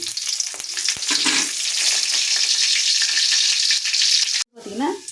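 Curry leaves hit hot oil and fry with a loud, crackling sizzle that stays dense and continuous, broken by a brief gap near the end and a faint voice-like sound after it.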